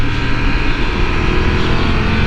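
A Triumph Tiger motorcycle engine drones loudly and steadily while riding, mixed with heavy wind rush in a continuous, close roar.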